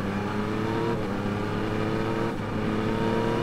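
2021 Yamaha MT-09 motorcycle engine pulling hard under acceleration, a dense, steady drone with rising harmonic tones and brief dips at gear changes, loud and close with no talk.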